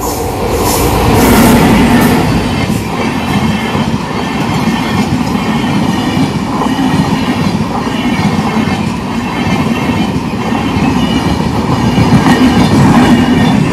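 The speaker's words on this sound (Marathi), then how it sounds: "काही बघा फाटक पडलाय ना आम्ही थांबलो इथं. आहे बघा आलाच ना ट्रेन येते बघा दिसेल तुम्हाला" A train rolls past a closed railway level crossing, a loud continuous rumble with clickety-clack wheel rhythm and some high squeal, steady and close throughout.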